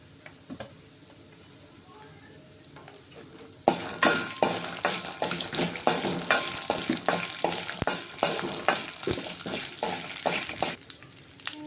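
Garlic drops into a hot pan and bursts into a loud, crackling sizzle that continues under clinking stirring, after a quieter opening stretch.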